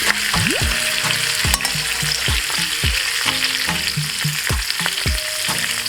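Pieces of previously fried chicken dropped into a hot pan for a Kerala-style lemon chicken dry fry, giving a steady loud sizzle with repeated scraping stir strokes, close up and without talk.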